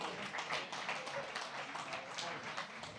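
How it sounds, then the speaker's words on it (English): Audience applause at a Central Oregon PubTalk gathering, a dense, steady patter of many hands clapping at moderate distance, fairly soft and continuous throughout. "How about another round of applause for my"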